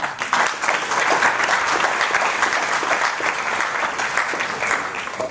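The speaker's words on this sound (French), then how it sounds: "Donc, applaudissements pour les enseignants." Applause from an education-event audience honoring the academy's teachers, a dense, steady wash of many hands clapping that stays loud and even for several seconds with no talk over it.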